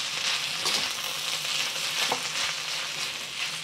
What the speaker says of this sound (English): Just gonna stir this in.